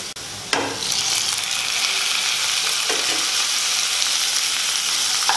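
Tomato sizzling in hot oil in a pan with cooked radish and onion, a sharp burst as it goes in, then a steady loud crackling fry with a few soft stirring scrapes.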